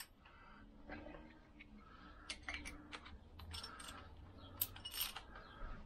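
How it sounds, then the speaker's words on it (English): A spanner works a nut loose on a Lambretta scooter engine bearing tool, giving faint, scattered metallic clicks and ticks of a ratcheting mechanism at close range. "I'll just undo the nut"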